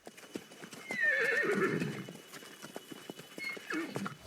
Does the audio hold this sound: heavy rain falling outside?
no